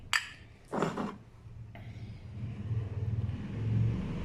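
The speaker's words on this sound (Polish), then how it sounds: "na ulicy ciągle jeżdżą motorynki i samochody" Traffic passes on a street outside a kitchen, with low engine rumble from cars and mopeds rising and falling in the background, faint and distant, along with a couple of brief clinks nearby.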